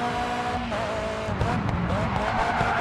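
A race car in the Grid 2 racing game brakes hard. The engine note drops and tires squeal and skid as the car slows, loud and close.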